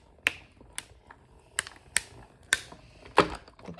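An embossing folder is cranked through a die-cutting machine, producing a series of sharp, separate mechanical clicks and ratchet-like snaps at irregular intervals, close up and fairly quiet between them.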